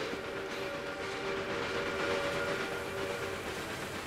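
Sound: train running in the video game Railway Empire 2

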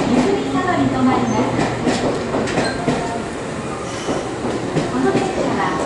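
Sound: express train arriving at station

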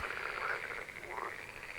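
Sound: frog croaking

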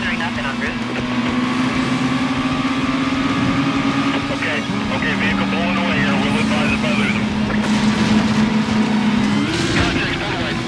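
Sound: car pulling away in Need For Speed video game

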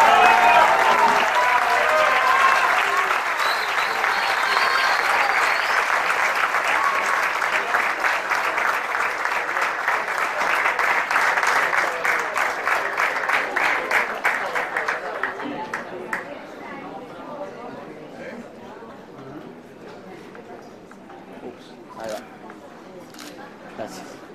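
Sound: audience applause at award ceremony

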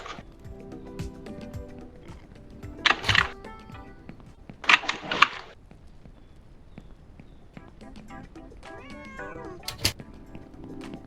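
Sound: cat meowing in the video game Ranch Simulator

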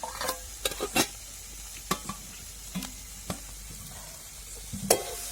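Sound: onion being sautéed and stirred in pan

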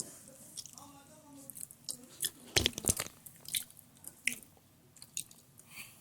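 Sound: chewing homemade brownie

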